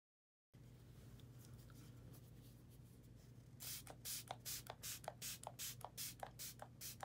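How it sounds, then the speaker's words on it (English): A face mist is sprayed onto a face as a run of short, crisp hissing pumps in quick succession after a few seconds of quiet room tone, close and fairly soft. "Let me just spray my face."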